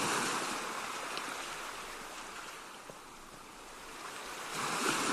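Ocean waves wash steadily onto a beach, a continuous broadband surf rush that swells slightly louder toward the end, with no voices.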